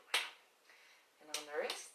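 Two sharp hand slaps land on the shoulder and arm during a stretching session, one early and one later, with a short voiced sound partly overlapping the second.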